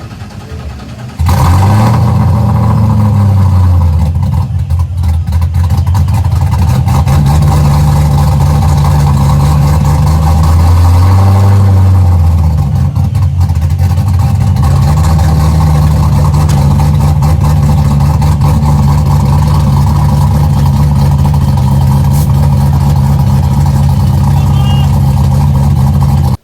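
Fox-body car's engine revving hard in repeated swells over a steady rumbling idle, loud and close, with a voice heard faintly under the engine noise.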